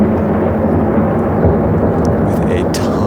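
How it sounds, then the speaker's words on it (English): A deep, continuous thunder rumble, heavily reverberant and spacious, holding a steady loud level throughout. "we have this thunder sound effect"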